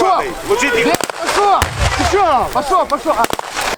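Sharp blasts go off during military training on a psychological obstacle course through mud and smoke, several brief loud bangs cutting through shouting voices nearby.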